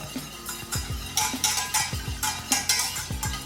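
Hot pear purée cooked with sugar is stirred with a utensil after hydrated gelatin goes in, making rhythmic scraping and clinking strokes against the pot, close and fairly loud, about two to three strokes per second, with no voices.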